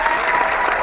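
An audience at a tech conference talk breaks into applause, a brief, loud, dense burst of clapping from a full room.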